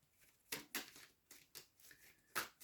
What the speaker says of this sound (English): Okay, let's get this shuffle right.